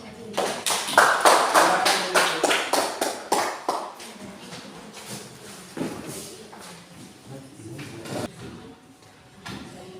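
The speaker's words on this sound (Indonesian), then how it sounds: "kita berikan aplaus kepada kelompok 3" Classroom applause for a student group: many hands clapping loudly at first, then thinning into scattered claps and a few last isolated ones, with a brief murmur of voices.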